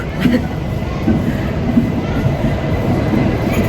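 A train draws into a station platform with a loud, steady rumble and rattle of rail wheels, faint squeals over a constant roar, and a voice talking over it.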